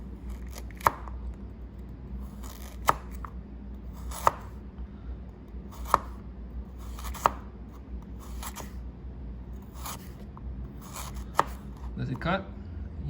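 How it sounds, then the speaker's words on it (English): A Kershaw Blur knife cuts carrots on a board with sharp, evenly spaced chops, about one every second and a half, close and clear, followed by a quick burst of faster cuts at the end. "Let's cut some carrots."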